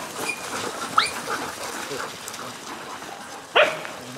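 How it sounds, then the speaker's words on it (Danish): Golden Retriever puppies out in the woods for the first time give two short sharp barks while playing with other dogs, over rustling and people talking in the background. "Nu er der hundeleg"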